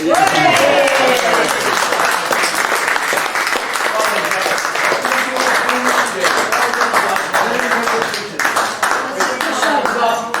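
An audience claps through a personal tribute event, a thick continuous wash of applause with voices calling and chatter mixed in underneath.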